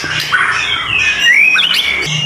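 A bird in a bird shop lets out loud, harsh squawks and sliding raspy calls, close up and overlapping in quick succession.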